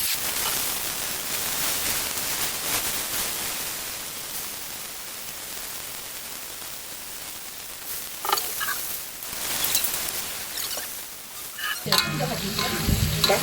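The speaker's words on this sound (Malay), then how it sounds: "Kita campur-campur lah ni tomato dengan cili tadi guys. Kita gaul-gaul terus." Fried onions being stirred with tomato and chili in a pan, a continuous close sizzle with repeated scraping strokes of the spatula growing busier toward the end, no voices.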